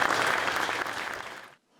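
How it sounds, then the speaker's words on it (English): Audience applause for the Nassau County Police Department Ceremonial Unit at a police service awards ceremony, dense steady clapping from a crowd that cuts off abruptly after about a second and a half. "Ladies and gentlemen, a round of applause for the Nassau County Police Department Ceremonial Unit."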